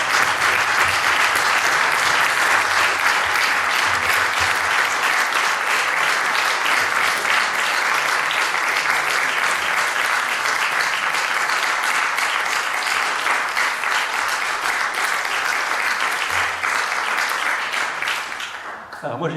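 A festival audience at an eco-dialogue talk in Thau applauds with a dense, loud, sustained clapping that holds steady for about eighteen seconds before tapering off at the end.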